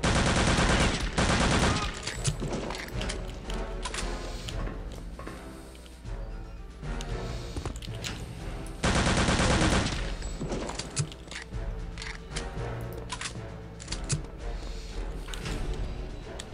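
Machine gun nest in Return to Castle Wolfenstein fires long, loud automatic bursts, a harsh rattling stream that pauses briefly and then resumes at full force.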